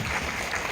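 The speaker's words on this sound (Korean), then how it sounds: "박수 부탁드립니다" Brief burst of audience applause at a film talk event for a concert documentary, a steady wash of clapping that fills the whole short moment at moderate level.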